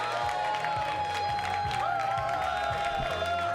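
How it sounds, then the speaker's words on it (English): Audience applause and some cheering greet stand-up comedian Chris Gorbos at a comedy set: a dense, steady wash of clapping at moderate volume throughout, with a sustained tone and faint crowd noise running beneath it. "give a warm round of applause for Mr."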